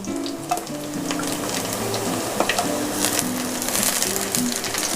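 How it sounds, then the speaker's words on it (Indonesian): Thinly sliced garlic sautés in hot oil in a pan, a constant close sizzle with occasional light stirring clicks and soft music underneath. "Saya tumis dulu ini bawang putih yang sudah diiris tipis."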